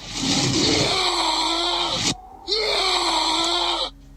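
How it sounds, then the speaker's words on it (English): Enemy death yell from the PS4 game Life of Black Tiger: two loud, harsh, strained vocal cries, each about two seconds, separated by a brief pause, repeated identically. "Every time you kill a person, they make the same yell."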